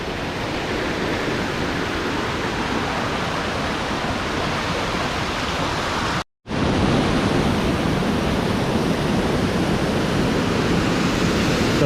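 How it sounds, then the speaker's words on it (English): Amazon jungle waterfall pouring beneath a rock overhang, a loud steady broadband roar of falling water close by, unbroken except for a brief cut to silence midway. "So this waterfall under the rock, it's very unique, by the way."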